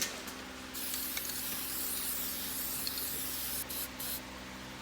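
Steady hissing spray paint coats a fingerboard grinding rail orange, one continuous close burst with brief breaks near the end and no talking.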